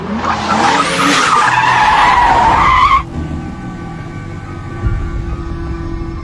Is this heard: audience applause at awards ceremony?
no